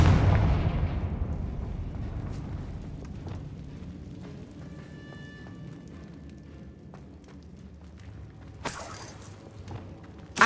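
A Confringo fire blast spell goes off in Hogwarts Legacy: a heavy, booming explosion at the start that fades into a long, low rumble, with a brief crackling burst near the end.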